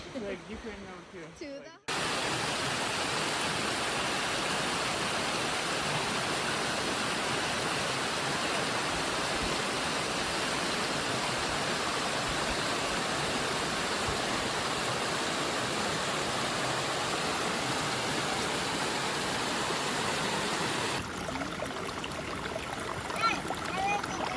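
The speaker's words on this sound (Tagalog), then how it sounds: "kung titingnan nyo, kumukulo yung tubig na yan dyan" Boiling hot spring water at Baslay, Negros Oriental, gives a steady, close rushing and bubbling roar that holds loud and unbroken for about twenty seconds after a brief quieter opening.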